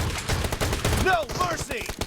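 Sharp, rapid shotgun blasts from an M1014 in a hangar-map shooter game crack out close and loud, overlapping with brief electronic radio-style callouts near the end.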